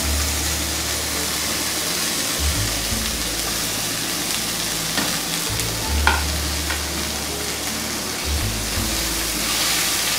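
Chopped snake gourd stir-fried in a pan with asafoetida, a steady loud sizzle with a few heavier scraping strokes and low rumbles from the stirring, no talk.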